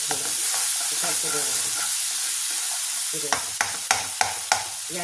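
A pea and gram flour mixture is stirred in a hot pan, sizzling steadily, with a series of sharp spoon scrapes and knocks against the pan toward the end.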